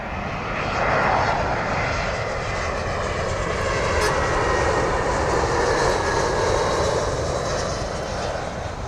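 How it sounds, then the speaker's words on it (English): A British Airways Airbus A319 jet at London Heathrow, its engines a loud, continuous broadband roar that stays steady throughout as the aircraft passes close by on arrival, with no voices. "right after this British Airways A319"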